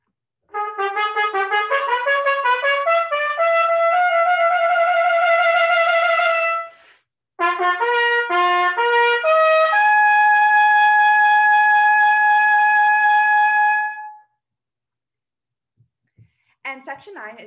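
Solo trumpet playing the climax of Otto Ketting's Intrada, bright sustained notes in rising, accented figures with a long held high tone, one brief break midway, close and clear, then silence with faint noises at the end.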